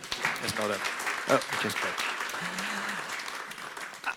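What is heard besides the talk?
audience round of applause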